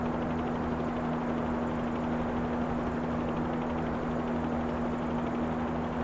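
A Bell 47G helicopter cruises at about 500 feet and 70 to 80 mph in a flight simulator, a steady rotor and engine drone with a constant tonal hum, moderately faint and unchanging throughout.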